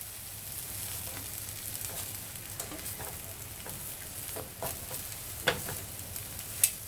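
Eggplant slices frying in a pan for moussaka, a steady close sizzle with occasional scrapes and light knocks as pieces are moved around, no voices.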